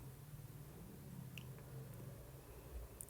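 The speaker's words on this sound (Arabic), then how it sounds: "هنقلب طبعا بالمعلقة او بأي حاجة، مش بالمضرب" Anise biscuit dough being stirred by hand with a spoon, giving soft, wet squishing and sticky mixing sounds that stay faint and close with no talk.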